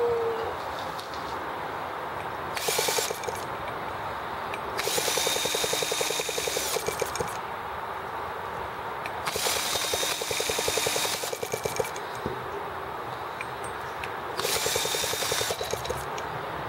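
A T26 engine running after a restart, a steady close mechanical drone broken by several loud, rasping bursts of a few seconds each as it revs up and falls back, with no talk.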